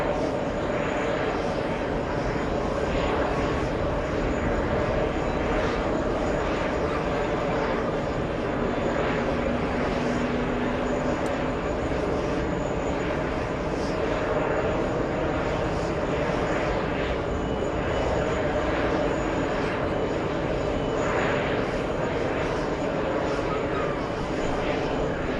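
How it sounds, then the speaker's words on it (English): SAS Scandinavian airliner bound for Copenhagen, waiting at the runway before its takeoff roll: a steady, loud broadband engine roar holds throughout with no clear build, and a voice talks over it. "As we wait for SAS to begin their takeoff roll"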